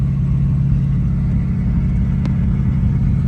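An old, tired GMC TopKick truck engine idles with a low, steady rumble close by, with a faint tick partway through.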